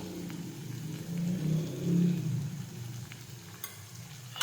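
Spiced kantola (spiny gourd) sautéed in a pan, a low steady sizzle with a swelling stirring rumble in the middle and a few light utensil clicks near the end, no voices.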